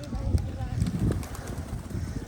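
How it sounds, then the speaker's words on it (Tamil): Pigeons coo amid the Qatar desert on a safari outing, soft low calls under steady wind noise with faint voices in the background. "அவ்வளோ புறா இங்கே இருக்குது பாருங்கள்"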